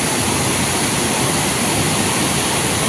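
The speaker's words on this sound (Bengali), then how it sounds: "কত জল নামছে" Heavy water rushes down a waterfall, a steady, loud broadband roar with no breaks and no voices.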